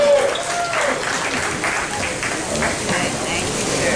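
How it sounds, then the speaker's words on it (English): An audience gives a round of applause at a steakhouse event, a loud, sustained wash of clapping with voices mixed in. "Give a round of applause to Aiden and Janice."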